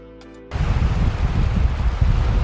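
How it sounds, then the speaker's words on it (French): Ocean waves surge and wash against the shore with light wind buffeting the microphone. The sound cuts in abruptly after a short quiet start, then stays loud and steady. "Est-ce que vous avez entendu le bruit de ces vagues ? Peut-être les vagues et un peu de vent."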